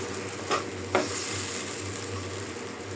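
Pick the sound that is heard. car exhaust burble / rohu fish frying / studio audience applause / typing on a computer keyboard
rohu fish frying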